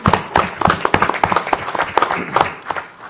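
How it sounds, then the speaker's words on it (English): Audience applause for county fair volunteers at a county board meeting, a brief round of irregular hand claps from a small group of people indoors, close and moderately loud, fading slightly toward the end. "I'm going to give you guys a round of applause."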